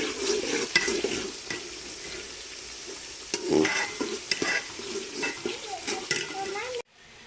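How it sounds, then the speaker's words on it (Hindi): Onions sizzle and fry in a pan as they brown for a potato, pea and carrot pulao, with repeated stirring scrapes close by, ending abruptly. "हमारे प्याज ब्राउन हो रहे हैं"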